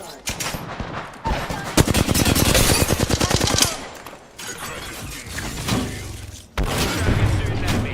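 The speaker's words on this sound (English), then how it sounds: "They're shooting at me." Automatic gunfire in the video game Apex Legends: a loud, rapid stream of shots in sustained bursts, mixed with other combat effects, while a voice talks over the action.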